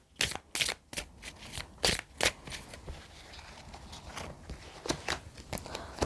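Tarot cards are shuffled by hand in a series of crisp, close riffles and slaps, sharp bursts that come quickly at first and then settle into a steadier rhythm, with no voice over them.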